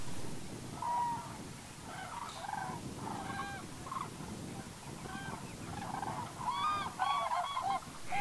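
Cranes call at Pulken near Yngsjö, a flock giving repeated bugling, trumpeting cries that overlap in irregular bursts at moderate distance over a soft outdoor background hum.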